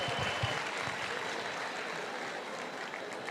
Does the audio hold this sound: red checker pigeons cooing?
no